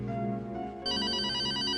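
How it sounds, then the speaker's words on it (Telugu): An old-style telephone bell rings in a Telugu feature film scene, a loud, bright electronic trill that holds steadily and then jumps brighter for the next burst, with no talking over it. "I think it's your phone."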